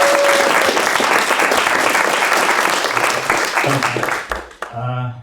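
An audience applauds a newly arrived speaker at a talk, dense clapping that thins out toward the end as a voice starts speaking over it.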